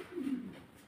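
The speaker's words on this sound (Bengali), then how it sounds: "দেখা যাচ্ছে নটটা ডাকতেছে, মাদিটা ডিমে আছে" A male foam satin pigeon gives a single short, low coo, close by and soft, with no speech.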